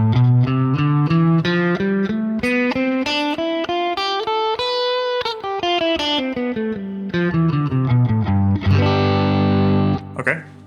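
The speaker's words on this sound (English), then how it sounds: "So let me play the Mixolydian scale first." Mixolydian scale in G picked note by note on an effects-laden electric instrument, climbing then descending in steady even steps, each note distorted and ringing, ending in a strummed sustained chord that fades.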